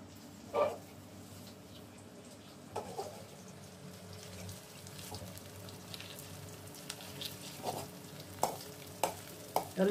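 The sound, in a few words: cabbage pakoras deep frying in oil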